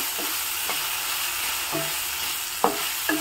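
Okra stir-fried in a pan, a constant close sizzle with spatula scrapes every half second or so and a couple of louder knocks near the end.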